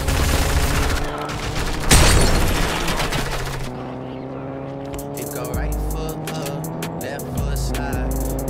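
Car engine revving and driving in the Fortnite video game, loud and continuous with steady tonal drone, mixed with bursts of gunfire and game effects, while players talk over it.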